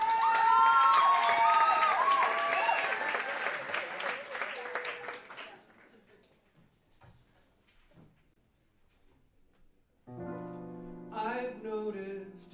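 An audience applauds and cheers for a performer at a pop music show, with loud, full clapping and shouts that fade to near silence by the midpoint, followed by someone singing.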